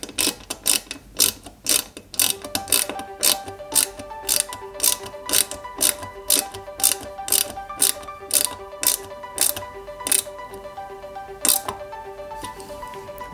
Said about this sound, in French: On le maintient et on y met une vis XM à tête plate.